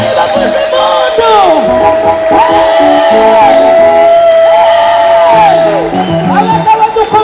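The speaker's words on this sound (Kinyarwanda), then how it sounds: "ababyeyi bavuze impundu" Women in a Rwandan church congregation ululate in loud, high trilling bursts that rise and fall over a noisy, cheering crowd, repeating several times in close succession.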